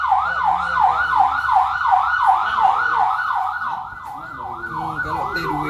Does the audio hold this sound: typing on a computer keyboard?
no